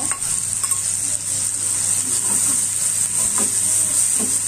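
Ground chili sizzles in a pan with tomato, garlic and shallots, a loud, constant bright frying hiss with occasional soft stirring scrapes and clicks, no talking.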